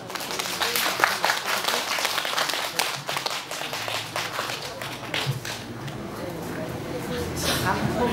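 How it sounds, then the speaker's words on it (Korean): Audience clapping at an outdoor Yeongwol festival concert, a dense spread of claps across a large crowd with music and talk mixed underneath, steady and fairly loud throughout. "박수 많이 주세요"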